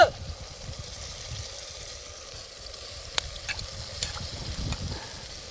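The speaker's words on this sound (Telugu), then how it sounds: "కూర గంట కలబెట్టాలి" Lentil curry being stirred in a pot while cooking outdoors in a jungle, a steady soft scraping and bubbling sizzle with a few sharper clicks, continuous and close, with no talking.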